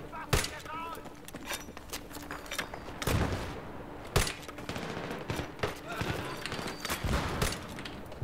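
Grenade-launcher rounds and gunfire go off in Battlefield 3 multiplayer, with sharp bangs and bursts spread irregularly through a busy battle, moderately close, and some voice chatter underneath.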